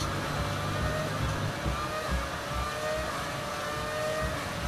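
A car overtakes and passes by on a road, its engine rising and falling as a steady, fairly close rush of motor and tyre noise that fills the whole stretch.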